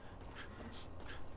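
In the Far Cry 5 shooter, a dog whimpers and pants softly, a brief, close, breathy whine over steady game background noise.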